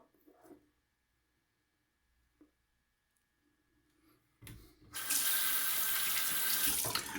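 After a few faint clicks and a short pause, a tap is turned on and water gushes steadily into a sink, loud and close.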